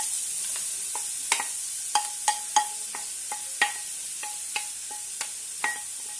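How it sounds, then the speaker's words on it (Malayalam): Grated carrot frying in hot ghee gives a steady sizzle throughout, broken by repeated sharp scraping clicks of a spoon stirring against the pan. "നമുക്ക് ഇതിലേക്ക് നമ്മൾ ഗ്രേറ്റ് ചെയ്ത് വെച്ച ക്യാരറ്റ് നമുക്ക് ഇതിലിടാം"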